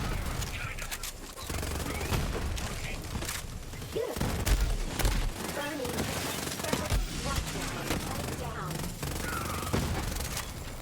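Dense, rapid gunfire fills the whole stretch in the video game Borderlands 3, with overlapping bursts and an occasional heavier boom, loud and continuous.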